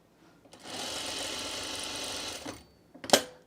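A sewing machine stitches through scrap fabric for a garden mulch mat in one steady, buzzing run of about two seconds, followed by a sharp clatter as it stops, heard close with no voices.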